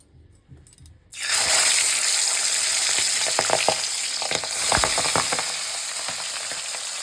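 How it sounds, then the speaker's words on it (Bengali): Pabda fish fry in hot oil. After a second of near quiet, a loud continuous sizzle starts, broken by occasional utensil clinks and stirring scrapes. "এখানে মাছ সব ভাজা হয়ে গেছে"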